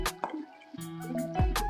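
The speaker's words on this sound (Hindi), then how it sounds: "चम्मच के साथ ही मिक्स कर रहा हूँ" A spoon mixes masala into yogurt in a bowl for chicken korma, giving wet squishy clicks and knocks against the bowl in a short, close, irregular burst, with no talking.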